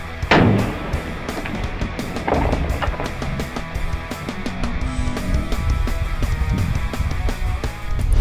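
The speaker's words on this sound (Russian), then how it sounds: "Потому что петарда может нижнюю пробить и верхнюю еще пробить крышку." A powerful firecracker bursts inside a plywood cabinet or chest of drawers with one sharp, loud bang, followed by a fainter thump and scattered rattling and knocking from the wood.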